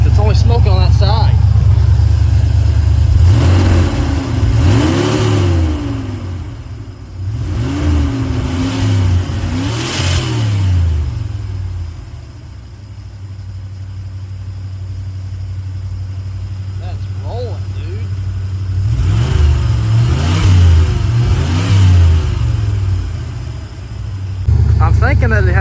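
A 1988 Ford van, recently fire-damaged and smoking from a suspected cracked exhaust manifold or bad gasket, revs up in loud repeated bursts between steady idling, with a person talking over parts of it.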